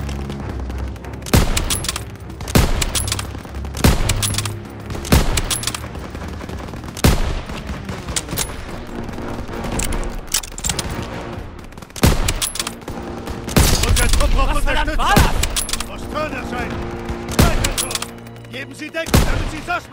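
Dense World War II battle gunfire from Call of Duty WWII, with rapid rifle and machine-gun volleys cracking in loud, continuous bursts and occasional heavy booms, some shouted voices mixed in.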